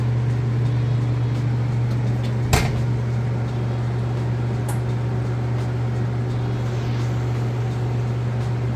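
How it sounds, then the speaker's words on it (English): A Whirlpool washing machine drains its water, giving a steady low pump hum with a constant mechanical drone throughout and a single brief knock partway through. "right, and we're draining the water out right now."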